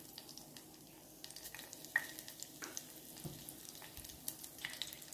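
Whole cumin seeds crackle in hot ghee and oil in a pan for a dal tadka, a faint sizzle scattered with small irregular pops, close by and with no talking.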